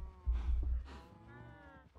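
A low, drawn-out moo from a baby cow in the Minecraft video game, close and moderately loud, with the tone trailing off over about two seconds.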